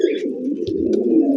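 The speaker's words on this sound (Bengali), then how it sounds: "পায়রার ডাক দেন।" A desi King pigeon gives a soft, low coo close by, one continuous throaty call with slight chirpy noises above it.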